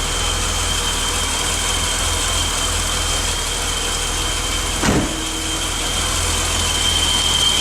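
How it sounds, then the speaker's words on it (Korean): A BMW 635CSi engine idles steadily and close by with a smooth, constant hum, plus a brief mechanical click partway through. There's no clear start-up crank, just a continuous idle. "시동 걸고 엔진 소리 어떤지 한번 확인하겠습니다."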